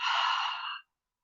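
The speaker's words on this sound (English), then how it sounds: "And a deep exhale." A single slow, deep exhale during a yoga breathing exercise, a soft close breathy rush lasting under a second before silence.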